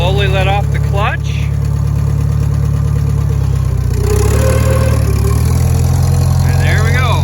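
A Farmall 404 tractor engine idles steadily and loud, then its low rumble shifts in pitch as the clutch is let out and the tractor pulls away, with a voice speaking at times over it.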